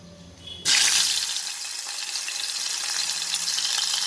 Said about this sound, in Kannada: ಹಾಗಲಕಾಯಿನ ಫ್ರೈ ಮಾಡ್ತಾಯಿದ್ದೀನಿ.